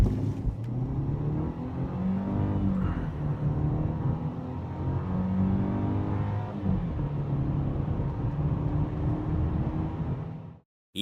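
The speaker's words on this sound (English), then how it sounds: "Let's see how it accelerates." Mercedes W212 E-Class accelerating from 0 to 100 km/h, a rising engine drone with gear-change dips, close and steady for about ten seconds before cutting off.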